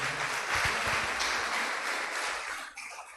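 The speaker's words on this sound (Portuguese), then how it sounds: "receber com uma salva de palmas o pastor Romerito" A church congregation welcomes Pastor Romerito with a round of applause, a fairly soft, steady wash of many hands clapping that tapers off near the end.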